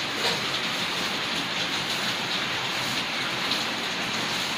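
Rain falls in a constant, loud, dense hiss with no pauses, close and unbroken across the whole stretch, and no talking over it.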